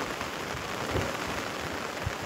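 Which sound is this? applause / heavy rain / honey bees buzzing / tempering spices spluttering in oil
heavy rain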